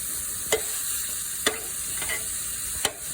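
Meat frying in a little coconut oil in a cast iron skillet, a steady close sizzle with a few sharp scraping clicks spaced about a second apart, no talking.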